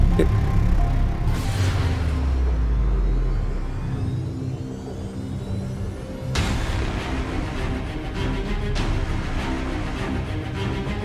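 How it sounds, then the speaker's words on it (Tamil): A car engine rumbles and whirs as the vehicle pulls away, the drone rising and settling over several seconds with a sharp swell partway through, staged as a sound effect in a Tamil audio drama. "டிரைவர் வண்டி எடுங்க"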